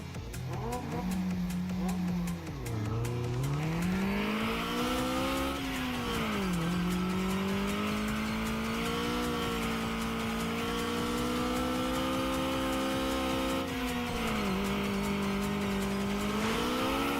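Racing car in the video game Redline Reverie, its engine holding a loud, continuous high-revving whine that climbs through repeated gear shifts with brief dips, and tire squeal mixed in, close and steady throughout.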